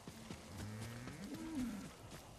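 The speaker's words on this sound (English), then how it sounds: "Shut up, cow." A cow moos once in Ghost of Tsushima, a low drawn-out call that rises and then falls, faint beneath soft footsteps and ambient game sound.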